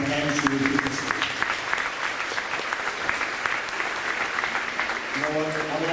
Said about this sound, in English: Big round of applause for Mrs. Brown and Julie